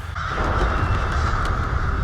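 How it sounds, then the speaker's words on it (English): Crows cawing in a Vikings battlefield scene: harsh caws repeat over a steady, loud rumbling background bed, with no voices. "The Crows of War."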